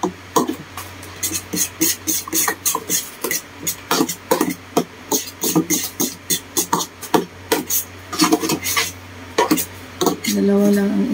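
A utensil scrapes and knocks against a pot while egg drop soup with seaweed is stirred, giving a rapid, uneven series of close clinks and scrapes over a steady low hum, with someone talking intermittently.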